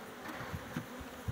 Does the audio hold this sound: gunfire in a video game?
no